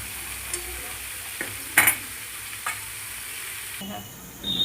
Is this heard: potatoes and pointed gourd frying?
yes